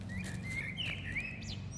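A black bird sings outdoors in a few bright chirping phrases, moderately distant, over a steady low rumbling background.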